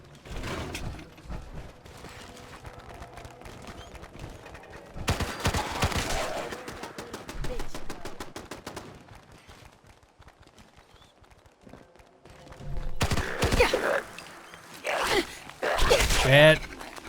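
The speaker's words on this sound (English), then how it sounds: "Yeah, they're shooting at me." Gunfire in the game Fallout 4, with bursts of rapid shots in two clusters, loud and close, under and between someone talking.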